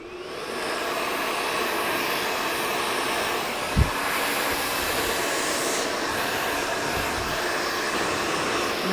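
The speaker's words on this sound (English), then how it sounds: "And I would actually blow dry it like that" A hair dryer blows steadily on hair wrapped around a brush during a salon blow-dry, a continuous close whooshing roar with one brief bump partway through.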